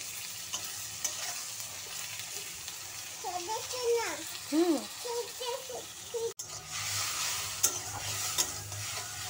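Okra curry cooks in a pan with a steady, close sizzle and stirring, while a voice rises briefly over it partway through.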